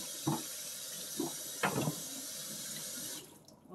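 Tap water runs steadily into a kitchen sink while a coconut is washed under it, with a few splashing bursts as the nut is turned in the stream, then the flow cuts off near the end.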